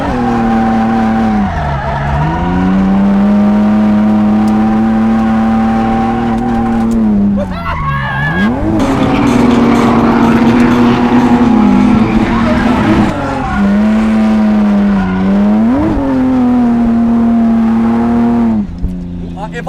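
A BMW E30 race car at a track event roars loudly and close, its engine pitch climbing and dropping again and again as it pulls hard through the gears, with a brief squeal of tires near the middle.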